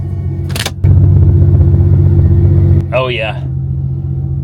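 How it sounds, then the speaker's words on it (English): A Ford Mustang idles with a steady low rumble and a faint high whine from its transmission pump, while someone speaks briefly near the end. "That whine is from the transmission pump."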